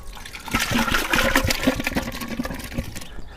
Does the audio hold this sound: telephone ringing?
no